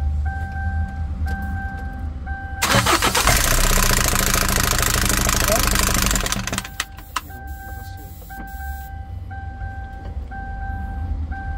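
A car engine idling with a noisy timing chain makes a steady mechanical ticking rattle, broken midway by several seconds of loud broadband rushing noise before the idle settles again, alongside an intermittent high electronic beeping tone.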